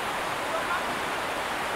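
A waterfall in the Araku Valley pours over a broad rock face. The rush is constant, loud and hissing, heard up close with no breaks.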